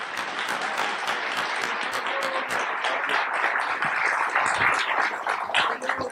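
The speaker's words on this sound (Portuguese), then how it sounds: "com uma salva de palmas" An audience at a political debate event applauds as a federal deputy candidate is welcomed forward, a steady, moderately loud round of clapping lasting several seconds.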